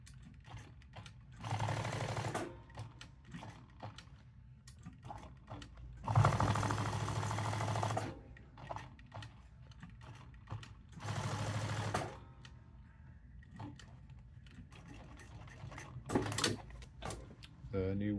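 Sewing machine stitching leather patches onto Richardson 112 Workforce hats, running in several bursts of a few seconds each with quiet gaps between, with a person talking over parts of it.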